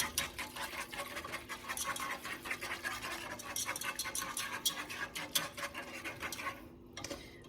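A small hand whisk beats a casserole mixture in a bowl for a bacon pierogi casserole, rapid rhythmic scratchy clicking strokes repeating steadily, close and moderately quiet, then briefly stopping at the end.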